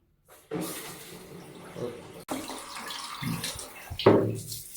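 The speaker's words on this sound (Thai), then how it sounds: "เดี๋ยวเราลองเปิดทดลองน้ำดูครับ อันนี้ผมเปิดแหล่งน้ำนะครับ" Water gushes from the supply just opened to a Rinnai water heater installation, a close rushing and splashing flow that swells and varies, with someone speaking over it.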